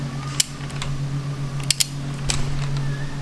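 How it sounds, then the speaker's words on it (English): A torque wrench gives a few sharp clicks as bearing cap bolts are tightened on an LS engine, with ratcheting sounds between the clicks and a steady background hum, close up and without speech. "I'm gonna go ahead and tighten these down. They click"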